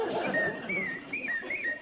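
A person whistles an imitation of a blue-tailed mountain warbler call, giving a quick run of rising and falling warbling notes up close.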